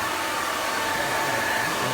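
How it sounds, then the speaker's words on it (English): A hair dryer blows steadily and loudly throughout, drying hair after a haircut, a constant whooshing roar with a faint high whine. "Let's get a hairdryer and just get rid of it."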